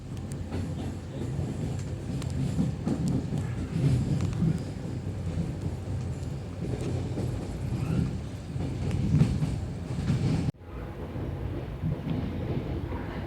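A passenger train between Zagreb, Croatia and Ljubljana, Slovenia rolls along its rails with a continuous low rumble and rattling, steady and close, before the noise drops abruptly near the end.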